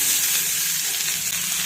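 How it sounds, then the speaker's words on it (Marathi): Chopped onion sizzling and frying in hot oil in a kadai over a gas flame, a steady close hiss that fills the short moment without pause. "कढईमध्ये मी आता कांदा टाकून घेत आहे"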